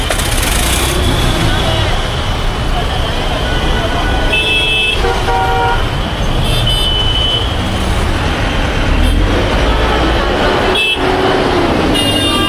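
Jammed road traffic during the Ganpati festival crowds in Mumbai's Girgaon, with a constant loud roar of engines and crowd, several short car horn toots sounding at intervals, and voices mixed in.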